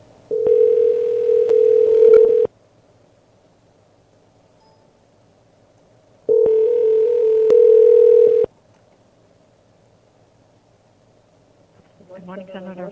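Two long, steady telephone ringback tones at even volume, each about two seconds long, are separated by silence while a phone call is placed, and a voice begins at the end.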